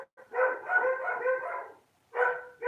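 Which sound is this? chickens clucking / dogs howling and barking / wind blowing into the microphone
dogs howling and barking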